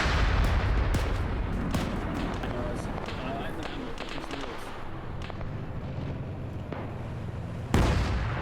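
Tank cannon fire from a tank destroying an M113 armored carrier in a video game battle, heavy booms and impacts over a dense, constant rumble of combat noise, with one loud blast near the end.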